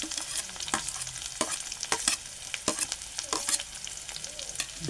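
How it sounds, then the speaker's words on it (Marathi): Onion frying in oil in a pan for an Indian home dish, with a steady broadband sizzle and repeated sharp scrapes and clinks of stirring throughout, moderately loud and close, with no talking. "कांदा लालसर परतून घेऊ."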